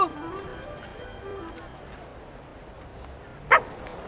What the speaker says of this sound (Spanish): ¡Calma, buen perro!